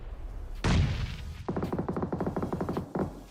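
A grenade going off in PUBG Mobile: one heavy boom, followed by a rapid rattling burst of gunfire and a final thump, loud and close.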